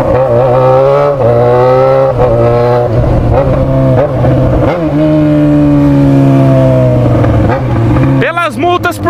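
Car engine revving hard through a loud straight-pipe exhaust with only the bare pipe, a steady droning roar rising and falling in pitch for the whole stretch, close and loud, with people talking over it.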